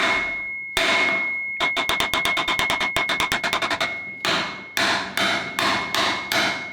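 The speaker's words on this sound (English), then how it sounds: "I cautiously went at it with a hammer alone" Sharp metallic hammer blows ring out on a rusted Honda CB250 axle bolt, first a few spaced strikes, then a fast rapid run, then slower heavy hits, with no voices.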